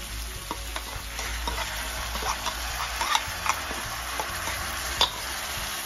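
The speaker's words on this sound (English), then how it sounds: "Keep stirring." Mung bean sprouts and green peas are stirred in a frying pan, soft scraping strokes and light clicks over a quiet sizzle at low to medium heat.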